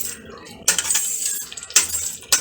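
A metal lid placed on a pot of simmering chicken stew with tomato gives three sharp clanks and scrapes spaced apart, close and fairly loud, with softer rattling between them.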